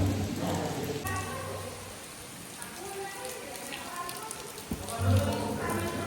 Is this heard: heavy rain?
yes